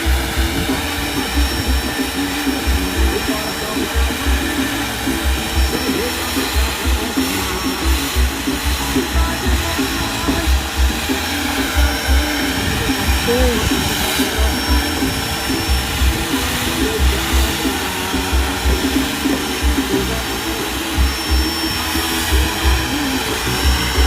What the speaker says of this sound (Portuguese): Já até limpando o som aí, ó, do pai dele, aspirando tudo